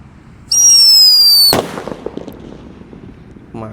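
A Whistling Thunder firework lit during Ramadan celebrations gives a loud, steady high whistle for about a second, then a sharp bang, followed by faint crackling and distant pops outdoors.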